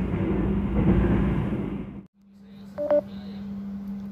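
Lodaya passenger train running at night, heard from inside the carriage: a loud, steady rumble with a low hum that suddenly drops away, leaving a quieter hum and a few brief electronic beeping tones.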